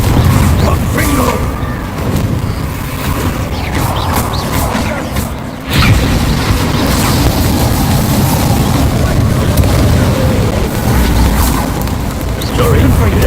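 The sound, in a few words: Confringo blasting spell explosions, video game Hogwarts Legacy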